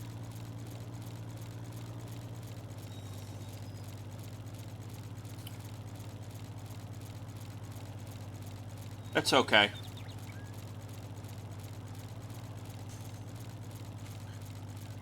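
Steady low farm tractor engine drone running continuously while mowing grass around an equipment shed, with a brief burst of speech and clatter near the middle.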